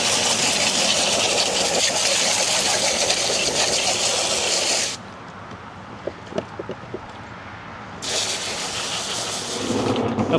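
A shop vac running while cleaning a Toro Recycler lawn mower, a loud steady roar up close that drops to a lower hum partway through, with scattered knocks and bumps, then rises to full roar again.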